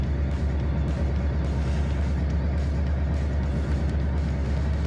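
A superbike engine fitted to a Peugeot 106 with no choke, warming up at idle as a steady, close low rumble without any speech.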